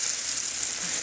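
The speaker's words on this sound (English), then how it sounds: "That sizzle." Granola-coated French toast made with thick pancake batter sizzles in hot oil, a steady, close crackling hiss with no voices.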